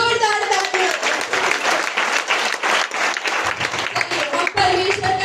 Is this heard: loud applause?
yes